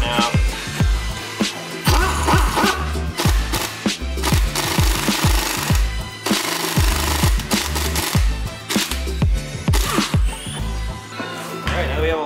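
Lug nuts are run onto wheel studs with a rattling impact wrench: repeated loud, close bursts of hammering in a steady rhythm, with short gaps between them.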